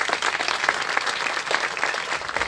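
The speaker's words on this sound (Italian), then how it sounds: "gli applausi adesso sono solo per loro." Dense, steady applause from an Italian event audience greeting a band before it plays, continuous crowd clapping at moderate loudness with no talking.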